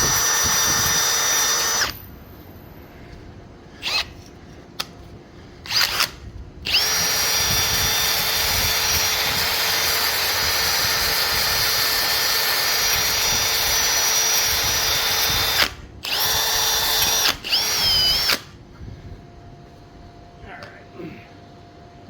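A power tool strips rust from parts of a 2003 Honda Elite 80 scooter, grinding loudly in short bursts, then in one long steady run, then a few more bursts before it falls quieter.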